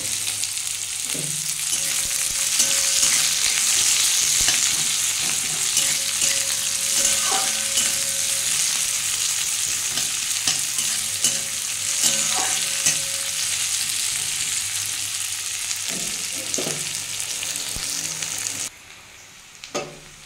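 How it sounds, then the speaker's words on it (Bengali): Onions frying in a pan until browned for a spiced okra and yogurt dish, giving a steady, loud sizzle throughout with occasional stirring clatters and scrapes, then a brief drop near the end. "পেঁয়াজটা আমি লাল লাল করে একটু ভেজে নেবো।"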